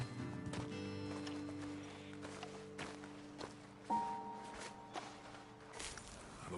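Horse hooves clop in Red Dead Redemption 2, sparse uneven thuds near and moderately loud over a sustained musical tone.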